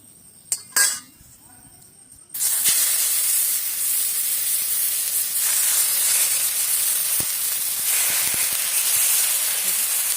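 Hilsa fish pieces frying in oil, a steady loud hiss that starts suddenly after a couple of light clinks and carries on evenly, with faint clicks of utensils now and then.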